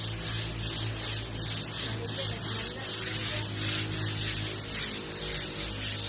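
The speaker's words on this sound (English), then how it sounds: "They scrub the cement floor." Women scrub a cement floor in a front yard with rhythmic, repeated rasping strokes, a loud back-and-forth brushing texture that continues steadily throughout without talk.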